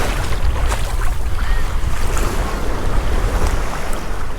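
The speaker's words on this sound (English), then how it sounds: "even though there's some waves this time" Ocean waves at Emerald Beach in Pasacao, Philippines, wash and churn close by on a choppy day, a loud rumbling surge mixed with gusty wind buffeting the microphone, no talking.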